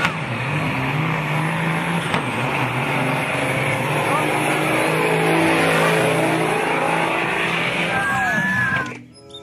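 A motocross motorcycle engine drones and revs steadily up close, its pitch shifting as it passes, then cuts off abruptly at the end.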